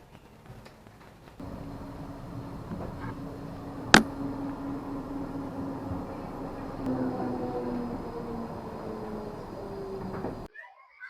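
A tram rides toward Basel, Switzerland, with a steady low interior rumble and a faint tonal whine. A sharp metallic clack cuts in early, then the ride noise continues evenly until it cuts off near the end.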